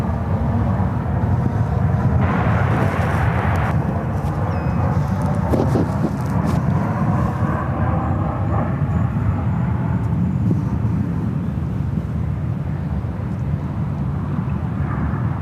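A Boeing 737-700 airliner takes off from San Francisco International Airport bound for Denver, its engines a steady, loud, broadband roar that holds for the whole stretch with no break and no voices.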